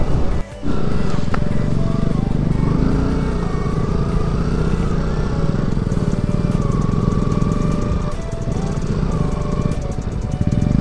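Motorcycle engines of bikers on a high mountain road near Hanle, a steady loud droning rumble with shifting revving tones lasting throughout, close by, with faint voices underneath.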